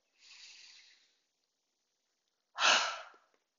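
A qigong instructor draws one soft, airy breath in, pauses in near silence, then lets out a stronger, fuller exhale close to the mic.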